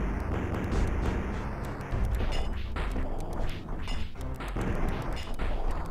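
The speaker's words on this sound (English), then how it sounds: "another cyclops causing explosions" Repeated booming blasts and crashing impacts rumble in quick succession, loud and dense, like a battle of explosions, caused by a cyclops in Ultima VII, with no speech over them.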